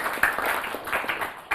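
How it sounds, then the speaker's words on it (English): A short, steady burst of audience clapping and applause at a gathering about refugees and young Kenyans, fairly close and loud, with no voices standing out. "let's give you a big round of applause"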